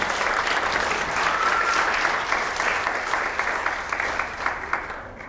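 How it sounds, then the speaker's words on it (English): Round of applause from an audience at an annual event, a steady wash of many clapping hands that gradually thins toward the end, with a few louder individual claps standing out. "Another round of applause."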